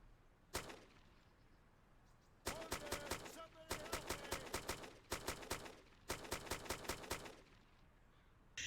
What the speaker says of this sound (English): Where the hell did those shots come from?